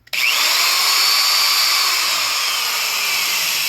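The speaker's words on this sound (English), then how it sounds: "you can run the drill off this little unit, no problem" An electric drill powered by a lithium battery generator whirs steadily at high speed, starting abruptly and running continuously up close for a few seconds.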